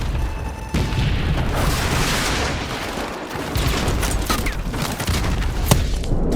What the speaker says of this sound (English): I aim my javelin, I fire, and we blow up the final tank